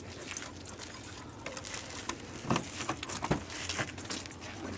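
Car keys jangle close by in irregular metallic bursts beside a van, with soft shuffling and a dog faintly whimpering and panting in the background.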